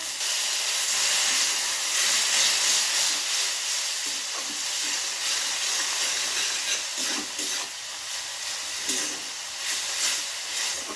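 Water poured into frying ground spice paste of coriander, cumin and red chilli powder with salt, for a Bengali tengra fish curry with potato and aubergine, gives a steady loud hiss and sizzle that sputters throughout, with no talk.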